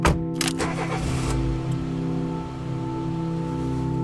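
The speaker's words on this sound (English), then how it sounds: "Let's drive through the gate and wind our way to the crown jewel of the cemetery, the Garden of Legends." A car rolls through the entrance gate of a cemetery with a steady, close engine hum and low rumble throughout, a brief clatter near the start, no speech.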